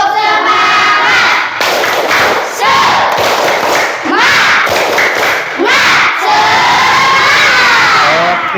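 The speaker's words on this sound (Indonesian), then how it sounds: "Coba tepuk semangat dulu gimana? Tepuk semangat." Schoolchildren in a classroom perform a loud tepuk semangat chant, shouting together in bursts with rhythmic claps and thumps, a brief pause between phrases.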